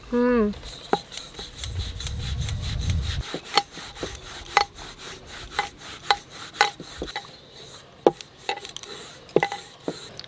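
A knife cuts through rolled wheat-flour dough on a board, trimming the edges with a string of sharp, separate taps and scrapes at irregular intervals, close and clear, with a brief low rumble early on.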